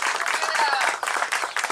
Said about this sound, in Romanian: Aplauze pentru Marica, în primul rând